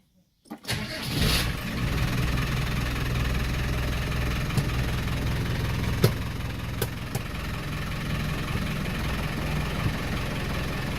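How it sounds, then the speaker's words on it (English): A Land Rover Defender 300Tdi diesel engine cranks and fires after a moment of silence, then settles into a steady, close idle with a few faint clicks over the running clatter. "then you can tighten up your little bleed screw and then check the engine runs"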